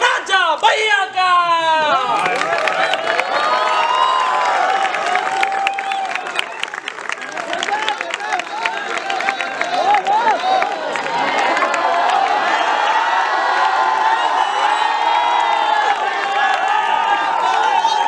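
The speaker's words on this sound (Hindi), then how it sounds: "बच्चों और बुजुर्गों, बहनों और भाइयों, जोरदार तालियों के साथ अभिनंदन कीजिए" Audience applause and cheering at a college stage event, loud and sustained for the whole stretch, dense clapping with whoops, and a voice calls out briefly at the start.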